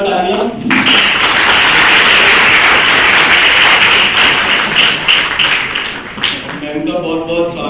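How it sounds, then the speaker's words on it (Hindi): Loud, sustained audience clapping at a student event welcoming the Meerut joint magistrate, swelling quickly and holding for several seconds before tapering off into a speaking voice. "जोरदार तालियां।"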